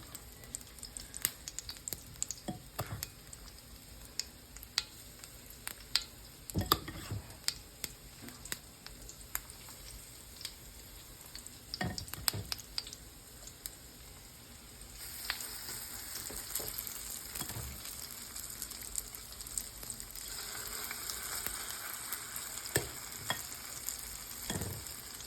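Small pieces of food fry in a skillet with a soft, continuous sizzle and scattered scraping taps of a utensil stirring, quiet and close, the frying growing fuller in the second half.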